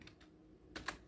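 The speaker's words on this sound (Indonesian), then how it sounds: "Di sini aja ketik KG Primari." A few soft, quick keystrokes on a computer keyboard while entering text in a design tool, very faint and close, in two short clusters with no speech.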